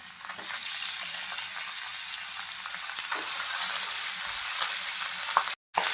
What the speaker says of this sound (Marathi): त्यामध्ये तेल टाकून आपण त्यामध्ये पनीर छान असं तळून घेऊया.